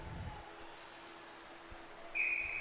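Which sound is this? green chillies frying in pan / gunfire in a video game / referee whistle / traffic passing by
referee whistle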